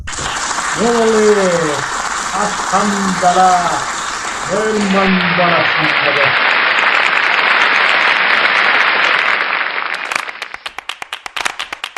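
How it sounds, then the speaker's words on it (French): An audience bursts into applause for an invited guest on a French-language interview show, with a voice calling out over the first few seconds before dense clapping fills the room and then thins into scattered claps at the end. "Faites un tonnerre d'applaudissements"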